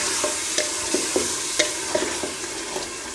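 Mutton stir-fries with spices in a pan under a loud, continuous sizzle, with regular scraping strokes of a spoon stirring the meat roughly every half second; no talking.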